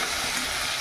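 Fish frying in hot oil in a pan, a steady close sizzling hiss that runs unbroken through the brief moment with no talk.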